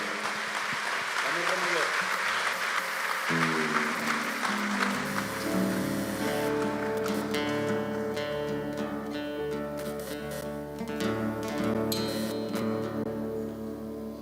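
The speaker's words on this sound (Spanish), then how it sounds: "Dale un fuerte aplauso a Él en esta mañana" A church congregation applauds during a morning service, with clapping and cheering mixed with voices and music as the praise builds.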